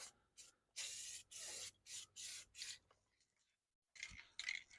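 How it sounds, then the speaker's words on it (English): Tire dressing is sprayed from an aerosol can onto the rubber tires of a 1998 Yamaha G16 limo golf cart: a series of short, soft hissing bursts, a brief pause, then a few more sprays. "I'll just spray some tire dressing on that."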